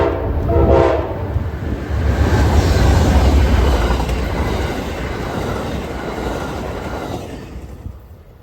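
An Amtrak Lake Shore Limited train led by a Midnight Blue locomotive passes through an interlocking, a loud horn blast opening into a sustained rumble and rattle of cars that gradually fades.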